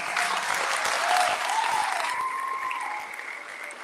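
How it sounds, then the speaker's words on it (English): Loud, sustained applause from an audience at a high school national signing day event honoring signees, a dense clapping crowd that slowly tapers off toward the end. "I think we should give them the biggest round of applause."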